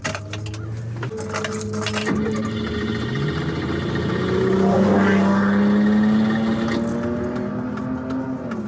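A Volvo's engine cranks and catches into a loud, steady, rising hum that carries on for several seconds, with keys jangling near the start and no one speaking.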